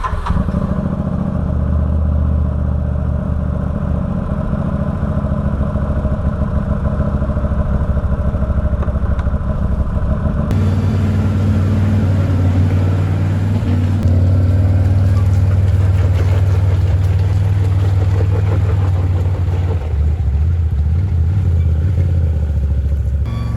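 A 2013 Can-Am Maverick side-by-side runs steadily, a loud close engine drone with a low rumble that shifts to a fuller, rougher note partway through, alone with no talk.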